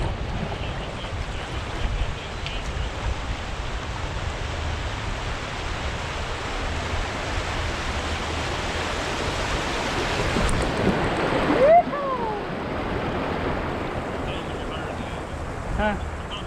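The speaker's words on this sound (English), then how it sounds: "we're starting out strong because we're starting out in some rapids immediately" A kayak moving through river rapids, a broad continuous rush of churning water with wind buffeting the microphone, swelling toward the end with a brief louder splash.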